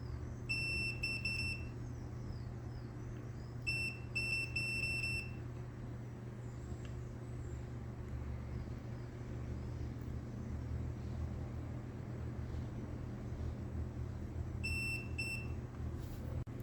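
A multimeter gives short, high electronic continuity beeps in small clustered bursts, spaced apart over a low steady background hum with no talking.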